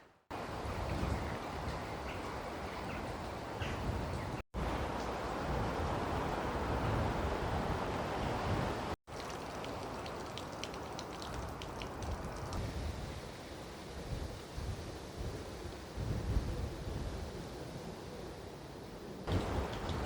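Strong, steady wind blows across a hilltop churchyard at St Nicholas church in Abbotsbury, roaring and buffeting the microphone throughout with gusty low rumble and a few brief dropouts, no voices heard.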